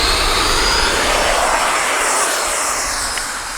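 A Freewing F-86 RC model jet, flying after a crash repair, takes off with a loud, continuous ducted-fan roar that stays close and strong and fades slightly toward the end.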